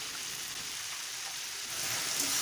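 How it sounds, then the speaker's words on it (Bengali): Vegetables frying in a wok over a high gas flame for egg chowmein, giving a steady close hiss and sizzle that swells slightly louder toward the end. "গ্যাস হাই ফ্লেমে রেখেই সবজিগুলোকে ভেজে নেব"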